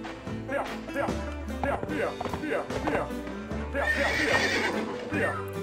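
Horse neighing in the video game Survivalcraft 2, whinnies mixed with clip-clop hoofbeats and game effects, while a person talks over the sounds.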